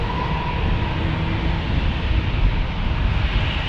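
Airliner arriving at San Diego's single-runway airport, a loud, steady broadband roar of jet engines heard continuously from a spotting position with no break or voices.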